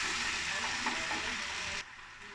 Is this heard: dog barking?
no